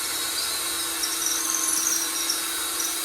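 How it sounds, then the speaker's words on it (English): A drill boring a hole into a maple and rosewood guitar neck, a steady high whining bit grinding continuously, close and loud. "and I come back and I drill again"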